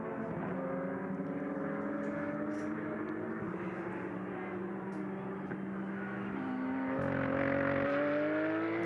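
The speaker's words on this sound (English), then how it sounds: "Oh, that was a rough sounding Porsche, wasn't it?" A rough-sounding Porsche GT race car engine drones at Circuit Paul Ricard during an endurance race, a sustained, fairly distant tone that shifts pitch as it passes, with a louder surge near the end.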